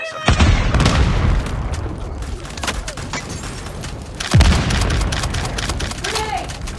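In the Call of Duty Mobile video game, a hardpoint match sounds with loud gunfire bursts and two heavy grenade booms, one at the start and one midway, with game voice callouts over the shooting.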